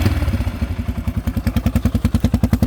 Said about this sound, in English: And this is my custom exhaust.